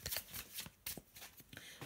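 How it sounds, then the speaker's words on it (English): A deck of tarot cards is shuffled close up in quick, repeated riffling bursts, soft and with no voices. "So let me just have a little shuffle."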